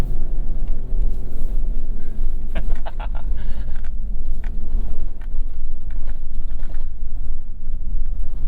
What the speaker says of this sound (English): There's some deep sand. Oh yeah, we're spinning.